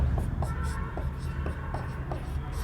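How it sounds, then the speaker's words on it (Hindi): Writing on a board during a Sanskrit grammar lesson, with short scratchy strokes repeating in a loose rhythm against a low room hum, close and moderately loud. "जैसे हम लिखेंगे"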